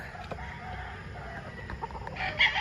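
Gamefowl roosters cluck and crow on a farm, short clucks scattered over a quiet background with a louder crow-like call near the end, moderately distant.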